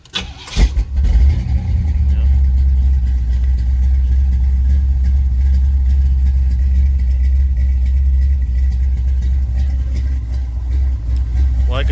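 A project car engine cranks briefly, catches and settles into a loud steady idle with a deep rumble that continues without fuel, and a voice speaks at the start.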